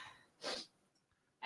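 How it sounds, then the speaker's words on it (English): A single sharp sneeze bursts out at moderate volume, framed by quiet breathing before and after. "I'm not done sneezing."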